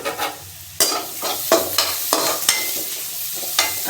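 Ingredients sautéing in a frying pan with a soft sizzle, broken by repeated sharp scrapes and knocks as a utensil stirs them, close and without talk.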